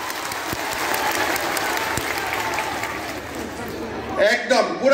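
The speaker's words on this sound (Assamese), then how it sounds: "গতিকে জিতু গোস্বামীৰ কাৰণে এটা ডাঙৰ হাত চাপৰি।" Steady applause fills most of the clip at a political gathering, a dense crowd clapping evenly before it cuts off and a speaker begins talking near the end.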